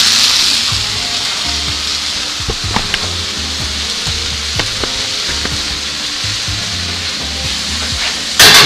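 Browned onions sizzle and crackle steadily as they go into a hot cast iron pan for a Swiss chard stew, with scattered sharp pops and spatter over a continuous frying hiss and no talking.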